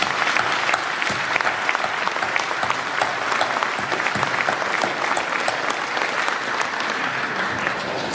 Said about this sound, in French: On va les applaudir une fois de plus